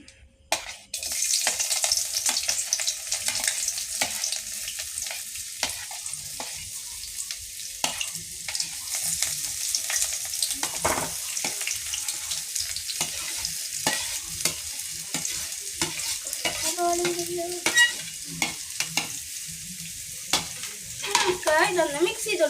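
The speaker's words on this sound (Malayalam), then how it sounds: "ഇതിപ്പോ വെളിച്ചെണ്ണ ചൂടായിട്ടുണ്ട് ഇനി നമുക്ക് സബോള എടുത്തിടാം" Onions sizzle steadily in hot coconut oil while being stirred for fish curry, a continuous loud frying hiss with scattered scraping stirs throughout.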